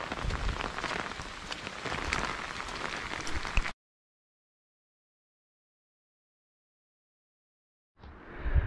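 Steady rain falls outdoors at a campground during a summer bicycle tour, a dense continuous hiss of drops before an abrupt cut to silence, then the rain patter returns briefly near the end.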